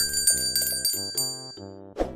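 A bright bicycle-style bell rings in a quick series of metallic dings that sustain and decay, ending with one short louder chime, played as a channel sound effect with no talking.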